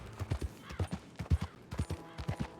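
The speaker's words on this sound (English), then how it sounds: "Me and this horse are really bonding right now." Horse hooves clip-clop in a steady, rhythmic walking gait in the Red Dead Redemption 2 video game, with close, distinct thuds and no talking.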